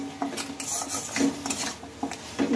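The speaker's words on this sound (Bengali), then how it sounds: "ভালোভাবে আমি মশলার সাথে পটল মাছের মাথা ভাজাটা সবগুলো আমি মিশিয়ে নিয়েছি" Fried pointed gourd and fish heads are stirred together with spices in a pan, producing steady close scraping and clinking of a utensil against metal over a soft sizzle.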